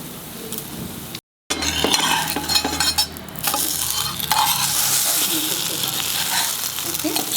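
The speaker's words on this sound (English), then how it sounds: "After two slices frying, then you can put more oil, little more butter." French toast slices fry in oil and butter in a pan over a low flame, giving a steady loud sizzle and crackle with a few clinks and stirring scrapes near the start.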